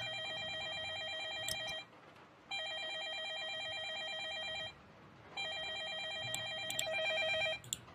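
A telephone rings in the video game Project H with an electronic warbling trill in two long bursts separated by a short pause, steady and moderately loud over a quiet background.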